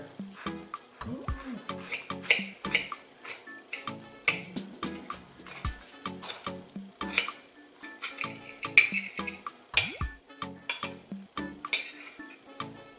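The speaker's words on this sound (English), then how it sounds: "I'm just going to take my knife here." Knife cutting through a crusty, toasted deluxe grilled cheese sandwich with melted cheese and avocado, giving a series of close, crisp scraping crunches and clinks of the blade against a plate, repeated irregularly throughout.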